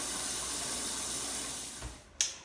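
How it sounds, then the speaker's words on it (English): Water from a kitchen tap runs steadily into a cooking pot for a chicken soup, a continuous close splashing hiss that cuts off near the end with a brief clunk. "fill your pot with water. Ooh, splashy."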